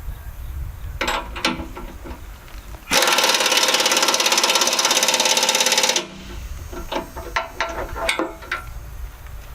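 A ratchet tightens bolts on a box blade, with a few scattered clicks before and after a loud, even three-second burst of rapid mechanical ratcheting up close.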